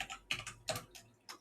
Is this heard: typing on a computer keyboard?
yes